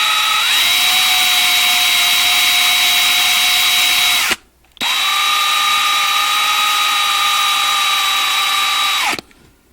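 A small power drill bores out the rivets on a 1/64 scale 2019 Kurt Busch #1 Monster Energy custom diecast car. Two long, loud, steady high whines are split by a short pause and end abruptly.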